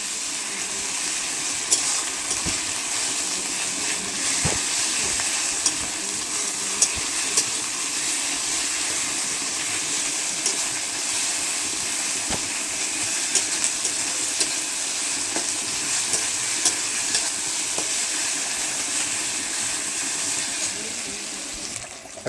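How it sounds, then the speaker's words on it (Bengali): Onions coated in ginger-garlic paste sauté in hot oil for a mutton curry, giving a steady close-up hiss with scattered faint clicks and pops throughout. "আদা রসুনটাকে পেস্ট করে মেখে নিয়ে কষতে থাকবো।"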